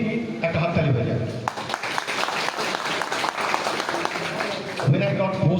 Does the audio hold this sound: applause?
yes